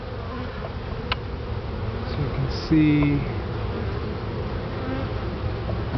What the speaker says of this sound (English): A lot of bees on there.